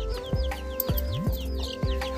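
Chickens and a rooster at a rural family home in Nepal, with scattered soft clucks and short chirps near and far, mixed with a few low thumps and background noise, no voices.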